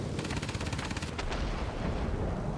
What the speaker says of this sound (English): And the tail gunner was shooting away there.